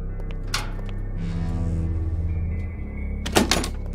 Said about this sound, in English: Why will none of these doors open?